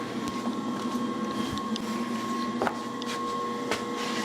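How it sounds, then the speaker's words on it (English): A 10 horsepower rotary phase converter hums steadily in a machine shop, sending up a constant droning whine with faint clicks and knocks over it, and nobody speaks. "The noise you hear is the rotary phase converter,"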